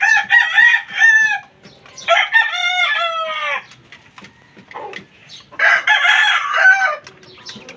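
A Filipino fighting rooster crows three times, each loud, clear call drawn out over about a second and a half, with soft clucks in the gaps between crows.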